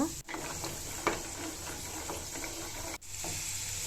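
Peanuts fry in oil in a kadai with a steady, close crackle and hiss, broken by a couple of brief scrapes from stirring.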